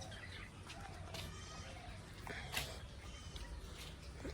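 A flock of pigeons outside their loft, with soft cooing and chirps plus brief wing flaps, faint against quiet outdoor background noise.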